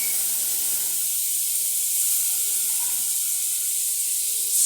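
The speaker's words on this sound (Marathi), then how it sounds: "कढीपत्ता टाकल्यानंतर आपण टाकणार आहोत बारीक चिरलेला एक मोठा टोमॅटो" Finely chopped tomato hitting hot oil with curry leaves for dal khichdi gives a steady, bright hiss of sizzling, fairly close and unbroken, with no talking.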